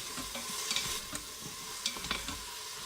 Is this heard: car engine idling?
no